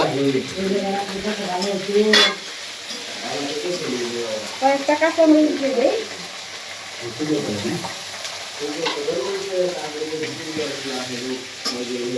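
Fish pieces for muri ghonto fry in hot oil, a continuous sizzle running underneath a voice that talks over most of it.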